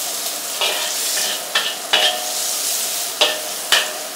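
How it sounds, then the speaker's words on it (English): Onions for fried rice fry in a pan with a steady close sizzle, while a utensil scrapes and stirs them in several brief, uneven strokes. "keep an eye on the onions as well when you are stirring it or leaving it to caramelize properly"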